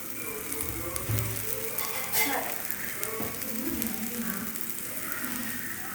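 Dry Byadgi red chillies fry in a pan with a soft, continuous sizzle and light crackle, moderately close, with some faint background noise.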